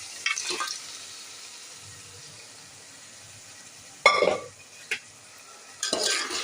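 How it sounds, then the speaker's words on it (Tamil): Boiled mutton is stirred into an onion-tomato masala in a pan, with a few short, sharp scrapes and clinks spaced over a mostly quiet background. "சேர்த்து நல்லா கிண்டி விடுவோம்"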